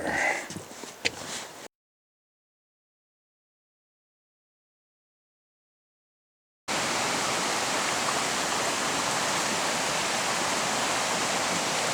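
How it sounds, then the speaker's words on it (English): The east branch of the Baptism River rushes along a wooded hiking trail, a steady loud broadband wash of flowing water; a brief rustling start gives way to a silent gap before the water returns. "This is the east branch of the Baptism River."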